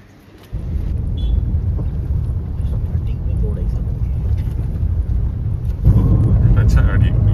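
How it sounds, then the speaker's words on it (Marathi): A car pulls up on a temple trip, its engine rumble rising suddenly and holding steady nearby, then growing louder near the end, with people talking over it. "आणि गाडी आलेली आहे."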